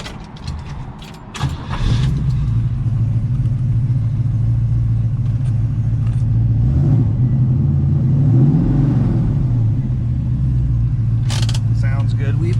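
A 1968 Chevrolet Camaro with an L30 engine, M20 gearbox and a MagnaFlow muffler cranks and fires, then settles into a loud, deep, steady idle close by before a brief rev swells and falls back.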